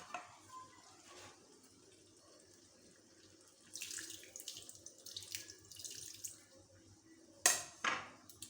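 Water poured from a tap into a cooking pan of jackfruit and prawn curry, a soft gurgling flow that swells midway and ends with a brief louder splash, close and with no one talking.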